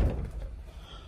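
The trunk lid of a Kia Carnival minivan swinging shut, one low, heavy thud at the start that fades into a quiet rumble of the surroundings.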